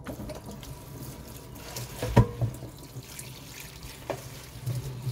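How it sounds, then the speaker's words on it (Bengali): Fresh water spinach greens are washed under a running tap, a continuous splash and trickle of water with handling noises and a few louder slaps of leaves and water, with no talking. "এখন শাকগুলো ধুয়ে নিই,"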